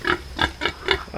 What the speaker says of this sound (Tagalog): Ay, baboy nila.